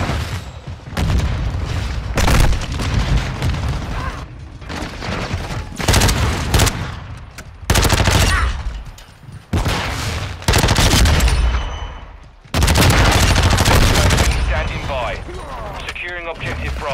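Rapid automatic gunfire from an MP5-style submachine gun in Call of Duty: Modern Warfare II, loud, close bursts with short gaps, alongside in-game voice announcements and a player talking.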